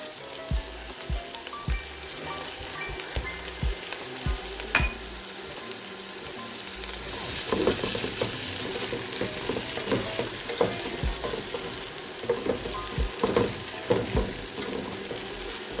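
Meat and vegetables for a British beef stew sizzle steadily in oil in a pan, with repeated scraping and clattering of stirring throughout, close and continuous, and no talking.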